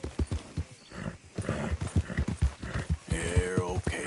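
A horse in Red Dead Redemption 2 gallops with rapid, rhythmic hoofbeats up close, ending in a loud neigh and whinny.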